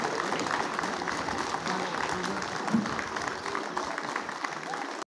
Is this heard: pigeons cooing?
no